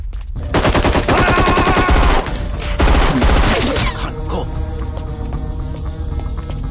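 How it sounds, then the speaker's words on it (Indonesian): Gunfire in a shootout between commandos and militants rings out in rapid automatic bursts, loud and close, dense for several seconds before thinning into scattered shots over a rumbling background. "Baku tembak pun tidak terhindarkan"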